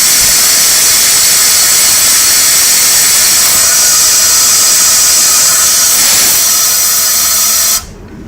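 Compressed air jet blasting through a Nissan Navara gearbox during a service, a loud, steady, broadband hiss that holds for nearly eight seconds before cutting off abruptly.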